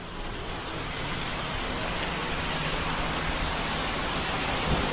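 Heavy rain in Butuan, Philippines, pours in a dense, steady hiss that stays constant throughout, with a faint low hum beneath it.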